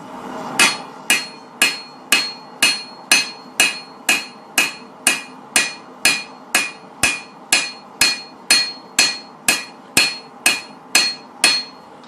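Hammer blows on hot steel at the edge of an anvil while forging a kukri blade: about twenty sharp, ringing strikes in a steady, even rhythm, loud and close, each with a brief metallic decay.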